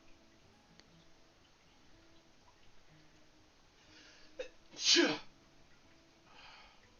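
A person sneezes once, a short sharp burst standing out from quiet room sound, with a faint softer noise trailing shortly after.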